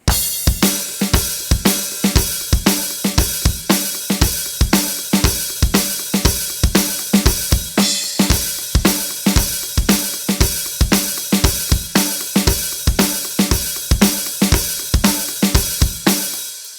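A full drum kit plays the opening riff of a song, with a crash on the one and quick, tightly repeated hi-hat and snare hits in a driving, even rhythm. It is loud and close, with no talking.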